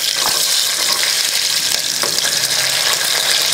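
Onions and garlic sizzle loudly in a pan with cinnamon and cloves for nombu kanji, a dense, steady frying hiss close up with no talking.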